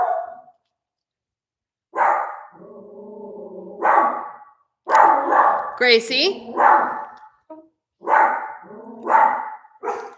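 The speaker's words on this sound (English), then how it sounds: "Anyone else have a yappy dog?" A small yappy dog gives repeated sharp, high barks in short bursts, close and loud, interleaved with a woman calling out to it.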